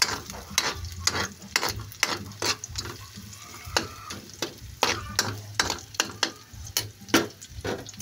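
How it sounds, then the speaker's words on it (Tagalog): Garlic and onion sauté in a pan for ginataang pacac, a steady sizzle under quick, repeated scraping strokes of a spatula against the metal. The sound is close and busy, with no talking. "nagisa na yung bawang, saka sibuyas"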